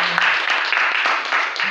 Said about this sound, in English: help me welcome him with a round of applause